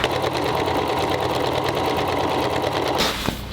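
A sewing machine runs steadily, stitching a clean finishing seam on canvas for an upcycled wood-and-canvas patio chair, a loud continuous mechanical whir that stops abruptly near the end.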